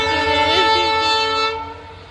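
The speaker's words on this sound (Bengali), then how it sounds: "দেখো ওই যে এখন ট্রেন যাচ্ছে" The Darjeeling small toy train sounds a loud, sustained horn close by, holding a steady harmonic tone before fading off after about two seconds.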